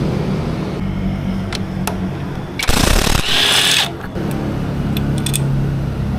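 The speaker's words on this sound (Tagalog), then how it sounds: "Gagamit tayo ng impact wrench para mas mabilis ang pagbaklas ng ating CVT parts." An impact wrench on a Honda Beat FI scooter's CVT cover bolts gives a short, loud buzzing rattle of about a second, framed by quieter workshop clicks and a low engine-like hum.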